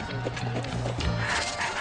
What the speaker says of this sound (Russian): Отличная лошадь, братан.